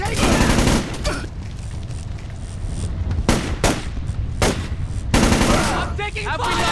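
Bursts of automatic gunfire and scattered shots in Splinter Cell: Chaos Theory, loud and repeated in several volleys, with shouted voices mixed in among the shooting.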